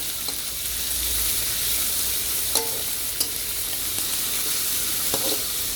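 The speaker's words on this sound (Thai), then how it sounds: "ใส่ไปแล้วก็คั่ว คั่วให้สุกนะครับผมทั้งหมูทั้งปลาหมึก" Pork and squid stir-fry in a pan over a picnic gas stove, a steady loud sizzle with occasional scraping stirs and light clinks throughout.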